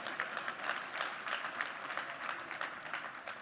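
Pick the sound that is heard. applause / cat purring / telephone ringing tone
applause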